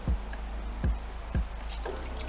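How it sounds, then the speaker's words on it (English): Water poured into a cooking pot for collard greens, a continuous near trickle broken by a few distinct splashy glugs at regular intervals. "Now we're going to add water."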